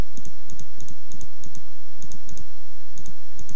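Loud, close computer keyboard and mouse clicks in quick bursts and irregular pairs, steady through the whole stretch with no voices, while selecting files in video muxing software.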